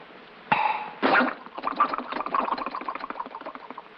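A voice imitates a bottle popping open, a sharp pop and burst followed by a fizzy, bubbling gurgle of pouring ginger ale.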